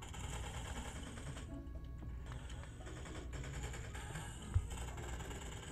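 Ray gun fired at zombies in a VRChat zombie survival game, heard as a rapid, steady mechanical rattle of repeated shots that runs through nearly the whole stretch at moderate loudness, with a single sharp thump near the end and no voices.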